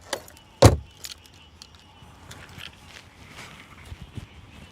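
Keys jangle once as they are pulled from a bag, a short bright metallic rattle near the start, followed by quiet rustling and faint handling noises.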